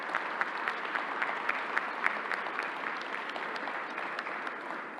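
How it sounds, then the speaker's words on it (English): Steady applause from an audience at a New York governor's news conference, a dense patter of many hands clapping continuously at moderate loudness with no voices over it. "Let's give Alan and the entire team a round of applause."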